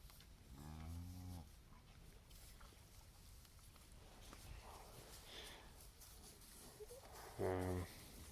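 Cows and a calf moo on a farm at night, two clear drawn-out moos, one near the start and a louder one at the end, with quiet background noise and faint shuffling between them.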